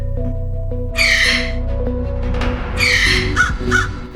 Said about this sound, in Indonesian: Nastia, tenang aja, cuma burung gagak kok